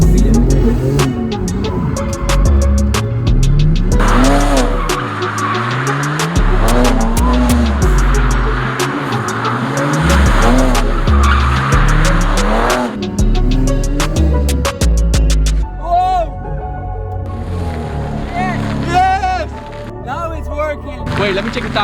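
A rebuilt BMW G80 M3 drifts with its engine revving hard and tires squealing in long, repeated screeches, loud and close, while people talk over it.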